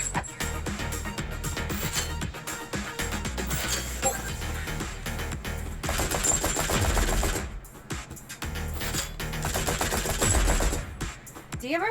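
Gunfire crackles in a modern beat 'em up video game as rapid, dense machine-gun bursts run almost continuously, loud and close, mixed with game music and occasional voices.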